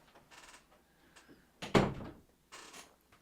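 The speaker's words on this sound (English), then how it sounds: "This cat, every video, he wants to go in the door, wants to come out the door, and he knocks" A cat knocks on a door, wanting to go in and out: a few separate dull bumps and rattles, one louder knock in the middle, close by with no talking.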